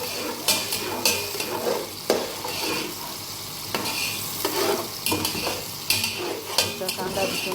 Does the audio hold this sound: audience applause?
no